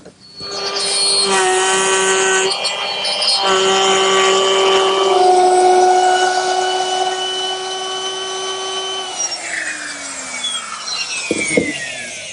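Power tool with a half-inch bit routing grooves in wooden rails and posts for an outdoor planter, a loud high whine with steady tones that shift in pitch, then winds down near the end.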